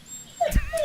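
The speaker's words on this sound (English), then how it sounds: "Did I just hear a really sad dog?" A dog whimpers in a brief, high, sad whine, rising once and then trailing off in a second thin whine, fairly close and clear.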